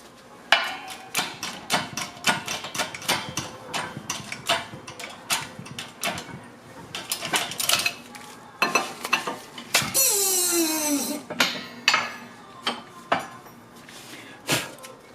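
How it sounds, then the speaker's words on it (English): Metal tools knock and tap repeatedly while a bushing is pressed into a Honda Prelude front suspension part, with clanks and a brief scraping squeal partway through; the impacts are close and irregular. "And there it is, we got the bushing pressed in."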